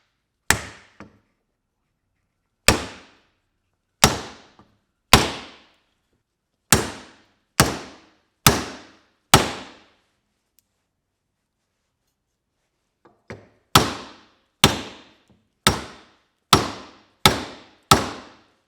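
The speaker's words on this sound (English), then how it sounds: "You want to go ahead and hit it with that rubber mallet." Sharp, solid thuds of a rubber mallet striking wood while fitting an axe handle, in two bursts of evenly spaced blows separated by a pause, close and loud with nothing else around.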